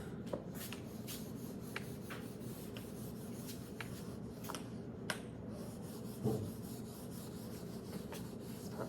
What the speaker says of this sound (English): So I'll just erase.